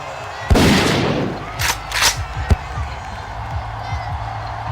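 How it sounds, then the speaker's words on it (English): Tommy gun gunshots sound effect during a football broadcast, a loud burst at the start followed by several sharp cracks and thumps, fading into a softer rattle under crowd noise. "The gunshots there for the Mafia breaking through with the Tommy gun"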